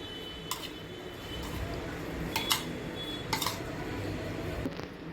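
Chicken pieces are mixed with lemon juice and salt in a bowl for chicken popcorn, giving faint, occasional clinks of a utensil against the bowl over a quiet background hum.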